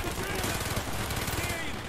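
Rapid automatic gunfire in Call of Duty Black Ops, a dense burst of shots rattling close and loud for about two seconds.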